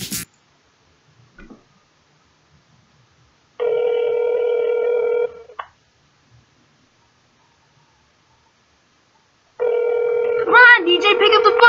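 A phone call to DJ rings out. Two long, loud electronic ring tones are separated by silence, and a voice speaks over the end of the second ring.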